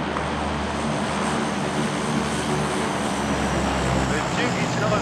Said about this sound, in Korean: 내 비행기 지나가는 중이더라.